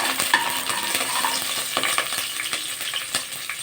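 Curry leaves crackle and sizzle in hot oil with spices in a pan, with soft stirring scrapes and small pops throughout, close and moderately quiet.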